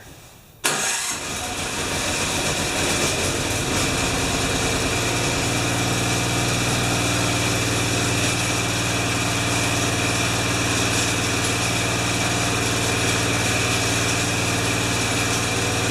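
A Craftsman snowblower engine, primed and choked, fires up after a short crank and settles into a loud, steady running drone, close by and unbroken for the rest of the clip.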